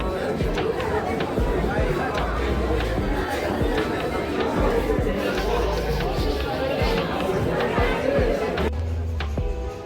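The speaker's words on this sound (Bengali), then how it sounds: "দেখুন কত যাত্রীর ভিড় এখানে" Dense chatter of a crowd of passengers at a busy train station during the Shivaratri pilgrimage rush, a steady overlapping babble of many voices close by with some clearer nearby talk.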